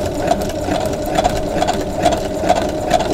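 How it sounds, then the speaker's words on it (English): A sewing machine stitches scrap pieces of batting together, a close, steady mechanical whir with a rapid rhythmic chatter of needle strokes and small regular clicks throughout. "I'm making sure that my needle grabs each side of my batting, or each piece of my batting"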